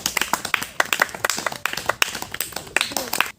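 Audience members clap at a coaching centre's annual prize distribution and farewell ceremony, giving a burst of sharp, close, irregular handclaps that fade out at the end.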